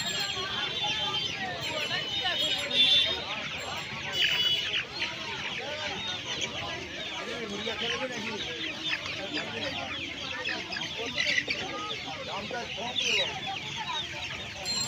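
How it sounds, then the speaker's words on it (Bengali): Australian broiler chickens at a busy Uluberia hen market, many birds clucking and squawking continuously at close range amid crowd noise. "এখানে অস্ট্রেলিয়ান বা ব্রয়লার মুরগি রয়েছে"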